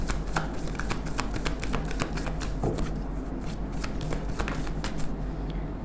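Tarot cards shuffled and drawn, a steady run of close, crisp riffling flicks and soft taps repeating throughout with no talk over them.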